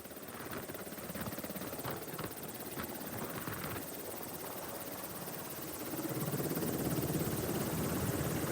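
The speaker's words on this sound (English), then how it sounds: "that was our ride there, that Black Hawk helicopter" A Black Hawk military helicopter runs in the mountains of Mexico, with a constant rotor thrum and engine whine that is steady and fairly distant, swelling a little louder toward the end.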